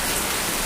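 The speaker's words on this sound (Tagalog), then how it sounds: "sa pagkalakas ng ulan yan" Heavy evening rain pours down in a dense, steady hiss of drops striking surfaces, loud and close with no voices over it.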